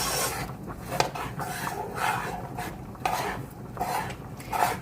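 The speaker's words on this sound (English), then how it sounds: "I'm cutting up some lettuce and tomatoes." A knife chops lettuce and tomatoes on a cutting board in a home kitchen, with steady close rasping strokes and soft repeated thuds at an even rhythm, no voices.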